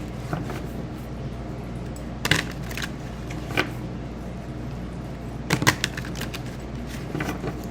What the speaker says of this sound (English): Let's ruffle shuffle them and let's see what the clarifying read has to say.